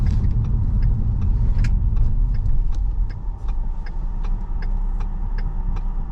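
A 2013 Ford Explorer Police all-wheel-drive SUV engine rumbles steadily at close range while the body knocks and rattles irregularly, zigzagging over uneven ground.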